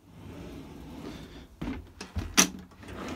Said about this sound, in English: A pull-out drawer with your kettle in